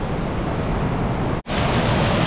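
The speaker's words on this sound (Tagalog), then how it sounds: "Lakas ng ulan, oh. Grabe." Heavy rain pours down outside Taal Basilica church, heard from inside as a dense, steady hiss and roar that stops for a brief moment partway through and then resumes. No one speaks.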